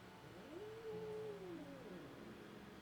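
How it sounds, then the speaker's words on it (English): A house cat gives a single drawn-out meow, faint and somewhat distant, rising and falling over about a second against a low steady room hiss. "that was my cat"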